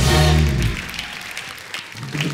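A crowd applauds the Housefull 4 star cast on a comedy show stage, a burst of clapping that follows a fading voice and continues steadily at moderate loudness.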